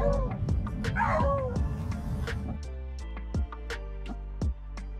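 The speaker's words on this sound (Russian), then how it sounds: "увидели очень свирепую пуму." Hunting dogs bark and yip at a cougar trapped at the edge of a steep cliff, sharp repeated barks close by with whimpering, plus some tonal background sound and spaced louder yelps toward the end.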